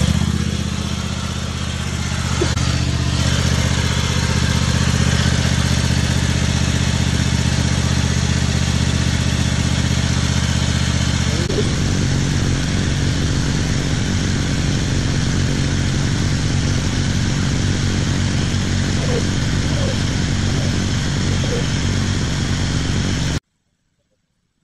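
A Toro zero-turn mower engine runs steadily and loudly close by, its idle note shifting partway through, then cutting off abruptly near the end.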